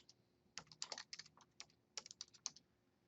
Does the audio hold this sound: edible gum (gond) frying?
no